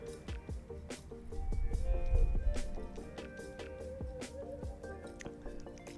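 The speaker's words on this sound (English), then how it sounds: "it's nice to just have like the warm water falling on my scalp" Warm water falls on hair and scalp during a wash of mini twists on type 4 hair, giving soft dripping, splashing and squishing sounds with a brief fuller gush of water in the middle.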